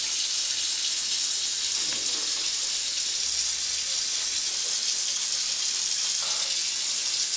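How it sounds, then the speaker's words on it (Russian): A bathroom tap runs in a steady, close hiss of flowing water with no talking over it. "открыть воду"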